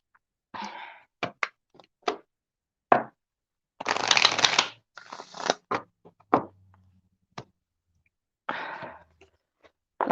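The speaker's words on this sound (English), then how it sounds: "Let me just get my cards shuffled out here" Tarot cards are shuffled by hand in separate short bursts, with crisp riffling and tapping near the listener, scattered quick snaps and a longer riffle in the middle, and near silence between bursts.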